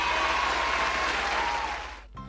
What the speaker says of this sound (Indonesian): Oke adik-adik, berikan tepuk tangan dulu dong buat Tuhan kita.